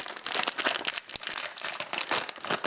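Crinkly plastic wrapping on a packaged breakfast burger being pulled open by hand, a steady run of close, loud crackling and crumpling for a few seconds with no talk.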